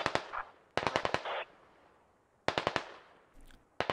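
Automatic rifle fire in the video game Squad during a forest operation, three sharp bursts of rapid shots with quiet gaps and faint echoes between them.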